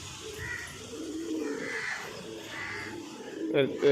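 An eight-year-old pigeon in a loft coos in a repeated series of soft, rolling calls at an even pace, close by, over a low background hum.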